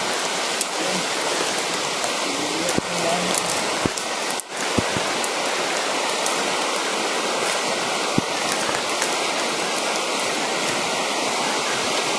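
Heavy rain pours in a dense, steady hiss without pause, with a few sharp taps standing out briefly and no voices.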